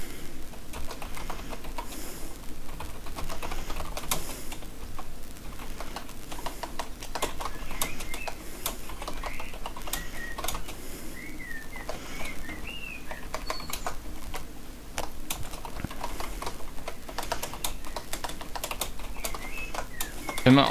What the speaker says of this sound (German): Die Tastatur ist aber echt laut, ja. Ich tippe halt einfach mit Nachdruck.